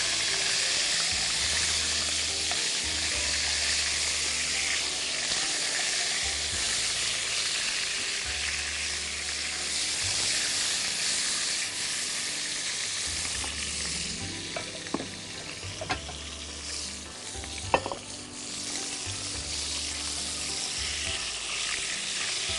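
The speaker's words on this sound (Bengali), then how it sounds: "দর্শক আমার কুরমার মাংস প্রায় ভাজা হয়ে গেছে" Chicken korma meat pieces frying in oil in a pan, a steady close sizzle with occasional stirring scrapes and a few sharp clinks near the end.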